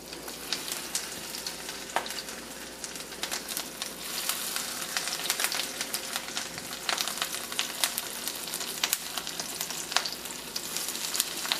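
Low-carb tuna cakes coated in pork rinds fry in a pan, a steady dense sizzle with scattered sharper pops and crackles throughout, close and fairly loud with no talking.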